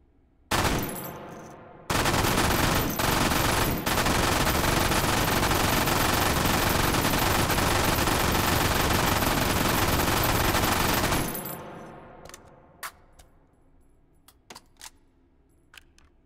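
A large automatic gun fires in the VR game Hot Dogs, Horseshoes & Hand Grenades, with a short burst followed by a long, loud, unbroken stream of rapid shots. Scattered clicks and handling noises follow as the firing stops.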